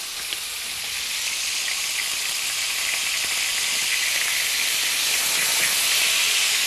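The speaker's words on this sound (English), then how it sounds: "So we got a nice sear going on that beef, as you can hear" Steady, close sizzle of steak searing in a hot pan, a dense continuous hiss that holds evenly throughout with no voices.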